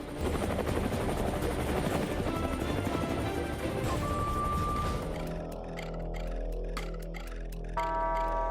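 A loud, droning Indian Air Force helicopter rotor roar in the high-altitude Siachen region fills the first five seconds, then gives way to quieter rhythmic clicks and ticking tones.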